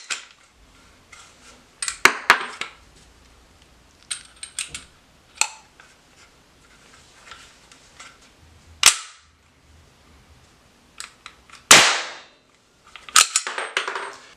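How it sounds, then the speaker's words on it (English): Primers fire in a Smith and Wesson SD9VE pistol during a trigger test, giving several sharp, loud cap-like pops spaced seconds apart. Metallic clicks and handling noises come between them, and no one speaks. "Primer is firing."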